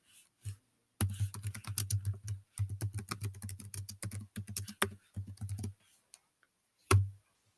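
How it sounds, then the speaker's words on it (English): Keys clatter on a computer keyboard in quick, uneven bursts with brief pauses between runs, close and fairly quiet, ending with a single louder tap. "So I'll go and type that in right here"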